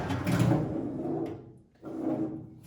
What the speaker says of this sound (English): And let's try to put that bottom drawer in now too.